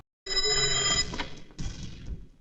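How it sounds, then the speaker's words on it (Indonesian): A telephone rings with a bright electronic warble lasting about three-quarters of a second, then a couple of softer clicks and rustles follow, heard close and alone. "Keesokan harinya, Pretty kembali mendapat panggilan telepon"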